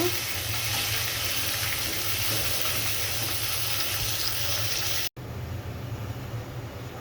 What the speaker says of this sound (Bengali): এখন মাছটা আমি ভেজে নিতেছি